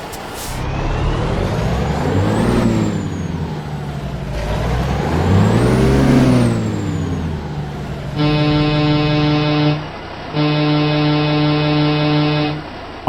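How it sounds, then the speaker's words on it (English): Engine start of a 1949 Peterbilt 350 truck in American Truck Simulator, loud, close, crank-and-rev surges rising and falling twice, then a steady layered horn-like drone sounding in two long blasts with a brief gap. "Let's go ahead and get this Peterbilt 350 started up, and so you can hear these custom engine sounds."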